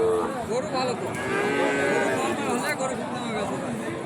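Cattle low repeatedly at a busy cattle market with Sahiwal bulls and calves, drawn-out moos rising over a crowd's chatter and people talking close by.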